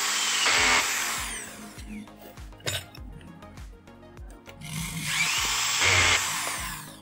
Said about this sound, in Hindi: हम इसमें स्क्रू टाइट कर लेंगे, एलन की स्क्रू यहाँ पे लगता है।